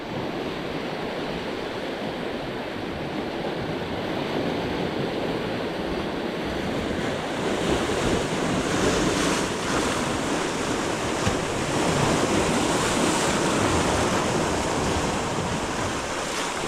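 Sea surf and waves surging under a surge warning on a coastline, with loud continuous roaring wash and wind buffeting the microphone throughout, growing slightly heavier midway.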